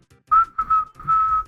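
A person whistles a short three-note tune in imitation of Omar's whistle from The Wire, a clear, close whistle with a rising first note and a longer held final note.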